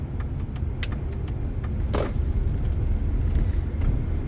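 Steady road rumble from a car crawling in freeway traffic on I-5 between Seattle and Everett, with a few faint clicks and a passing whoosh around midway.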